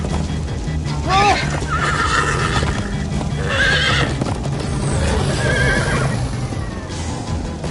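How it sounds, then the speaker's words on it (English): A horse in Minecraft: Story Mode whinnies loudly several times over a steady rumble of hooves and background noise, with voices briefly audible. "Slow down, horse!"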